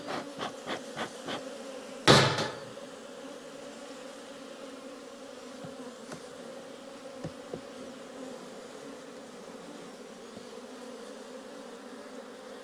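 Honey bees hum in a continuous low drone during an outdoor hive inspection of a weak colony. A quick run of sharp knocks and one loud clunk come early, and faint taps follow later.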